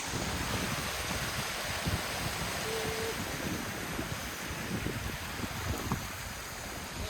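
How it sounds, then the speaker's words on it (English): Falls at Coombs Clough near Lads Leap in the Peak District make a steady, broad rushing roar of water that holds evenly throughout, with some wind noise over the microphone. "So this in front of us is Coombs Clough. These are falls"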